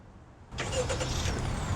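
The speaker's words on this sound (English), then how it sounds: "Car starts right up." A 2018 Honda Accord Touring with the 1.5-litre turbo engine fires up by remote start, a sudden broadband surge after a quiet half second that settles into a steady, close idle rumble.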